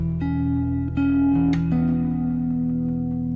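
Bass guitar playing a melodic line high up on its top two strings, as in a worship-song tutorial: a few sustained, sliding notes changing pitch every half second or so, close and steady with no talking.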